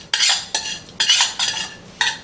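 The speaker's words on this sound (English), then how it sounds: "we add them to the rice. We stir them together." Spoon stirring candied carrots into rice in a metal pot, four or five distinct scraping strokes with short pauses between them, close and fairly clear with no talk.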